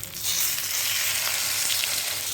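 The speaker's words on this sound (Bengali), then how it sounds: "মাছগুলো আমি উল্টিয়ে দিলাম, আরও কিছুক্ষণ ভালো করে ভেজে নেব।" Fish frying in a pan, a close, continuous hiss of hot oil sizzling steadily with no voices.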